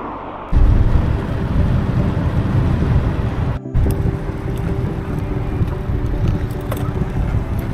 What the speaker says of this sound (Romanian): Acum, pe sfârșit de cursă, ne-a rupt vântul ăsta.